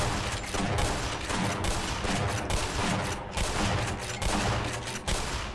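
Rapid, continuous weapon gunfire in the game Black Mesa, loud and dense bursts running throughout with brief gaps, no talking.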